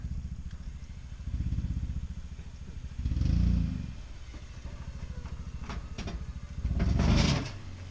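A Toyota 4Runner's engine works to winch a stuck Tacoma free in snow, its low idling rumble swelling into three heavier surges of revving with clattering between them.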